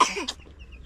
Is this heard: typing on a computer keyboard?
no